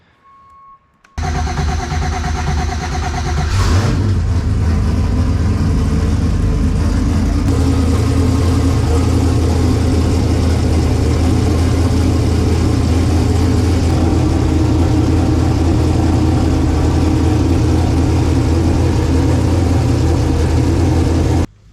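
Car engine fitted with new camshafts fires up for the first time and settles into a loud, steady, rough idle that runs continuously after a brief cranking burst.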